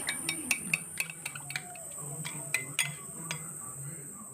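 Eggs being mixed with salt and pepper in a bowl, a run of quick light clinks and taps of a utensil against the bowl, close but faint, with some quiet background hum.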